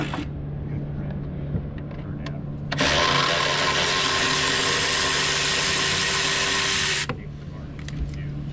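A power tool whirs loudly for about four seconds while pulling the studs that held a CP4 fuel pump during a CP3 conversion. Quieter idle-like background noise comes before and after the burst.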